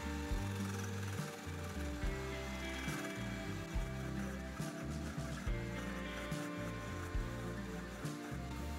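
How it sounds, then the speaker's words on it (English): A skew chisel cutting a small log spinning on a wood lathe, a quiet, steady motor hum with rhythmic scraping and chattering as the blade meets the wood, no talking. "Using the skew chisel just to tidy up the end of this piece of wood, then back to work with the spindle gouge."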